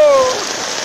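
Water rushing in a stream corner where catfish are being fished, a steady loud wash of flowing water heard up close, with a brief whistle-like tone at the start.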